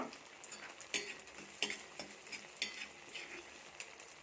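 Onion and mustard seed tempering frying in a pan for a drumstick aviyal, a faint sizzle broken by several sharp crackles and light scraping taps, no talking.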